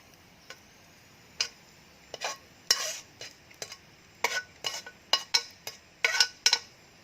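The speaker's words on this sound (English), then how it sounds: "Plating up the fried noodles" Metal utensils clink and scrape against a plate while fried noodles (mie goreng ayam) are served, a series of sharp, close taps in irregular bursts that grow busier toward the end, with no talking.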